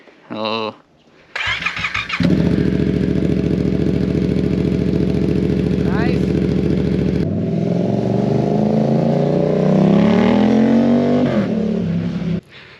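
After a few short electronic beeps, a Yamaha motorcycle engine cranks and fires, settles into a loud, steady run to warm the oil for an oil change, then shifts pitch as the revs change, with a voice talking over the later part.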